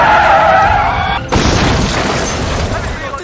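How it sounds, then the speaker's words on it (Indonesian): A truck smashes into an old man's house in a film, with a sustained skidding roar, then a sudden heavy crash and a rumbling, debris-filled aftermath, loud and close throughout. "kecelakaan terjadi yang membuat truk itu jatuh ke sebuah rumah kakek tua"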